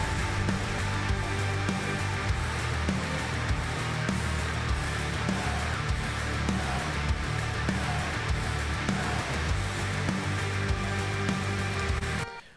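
A song chorus plays back with the vocals muted, leaving a dense, loud mix driven by steady kick and snare drums. It runs continuously for about twelve seconds and then cuts off.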